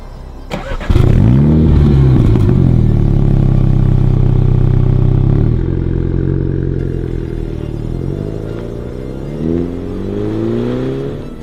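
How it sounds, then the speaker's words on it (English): A 2019 MINI John Cooper Works engine cranks and fires up on its stock exhaust, then idles loudly with a deep, rumbling exhaust note, later settling lower with a slight rev near the end. "show some clips of what the exhaust sounded like before"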